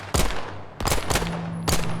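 Gunfire from the video game Phantom Line: four sharp, loud bursts spaced irregularly across a couple of seconds, each with a brief ringing tail, no talking over them.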